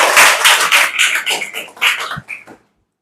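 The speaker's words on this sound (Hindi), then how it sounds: "जोरदार ताली बजा दीजिए इसके लिए" Children clap together in a short loud round of applause indoors, a dense patter of claps that trails off into scattered claps and then stops.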